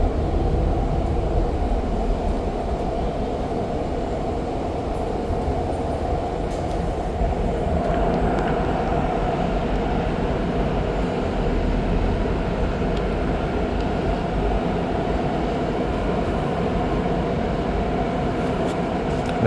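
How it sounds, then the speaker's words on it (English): Interior of a southbound REM light metro train on a quiet Labor Day morning ride between Central and Brossard stations, a steady loud low rumble and rolling drone continuous throughout, with no talk. "very quiet REM heading southbound"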